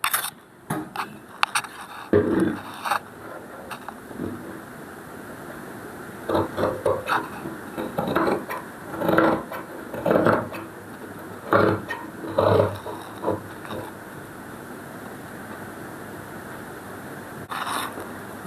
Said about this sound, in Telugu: ఇప్పుడు ఈ మార్కింగ్ ప్రకారం అయితే కటింగ్ అయితే చేసుకుందాము.